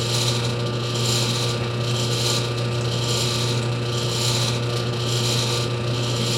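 Cranking back the table of a Delta Ammco metal shaper, a steady mechanical ratcheting and gear-grinding clatter over a constant low motor hum, continuous and close for several seconds with no talking.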